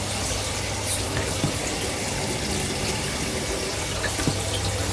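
Water pours steadily into a cracked 450-litre glass aquarium tank being filled up, a constant rushing, splashing stream close by with no voices over it.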